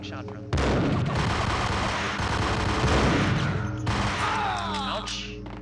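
Loud, dense gunfire and explosive blasts from a Max Payne shootout, with bursts and booms piling up continuously, and crackling debris near the end.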